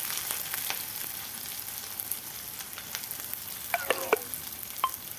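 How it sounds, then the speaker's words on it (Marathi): Onions and chilli frying in a pan for Maharashtrian vada pav, a steady close hiss of oil with scattered sharp pops and crackles, no voices. "आता हे छान फ्राय होऊ देऊ"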